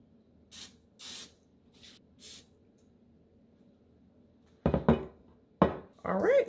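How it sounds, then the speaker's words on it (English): Cooking spray hisses onto a loaf pan in four short close bursts, followed by clattering of the pan being moved. "let's go ahead and coat the loaf pan with the cooking spray"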